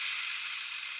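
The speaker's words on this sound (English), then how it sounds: "So if you were able to make your own rain stick" Steady, close rain-like hiss of a homemade rain stick as the loose filling trickles through the tube, fading slightly over about a second, with no voices.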